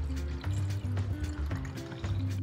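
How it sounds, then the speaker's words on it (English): Water pours and splashes into jars in short bursts, with gurgling fills starting and stopping several times, close by. "First, the water goes into these jars."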